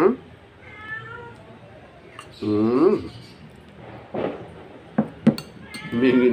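Cats meow repeatedly while begging for food, several clear, close, drawn-out cries spread across the clip, with faint clinks of dishes in the background.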